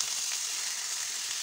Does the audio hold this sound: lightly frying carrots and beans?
yes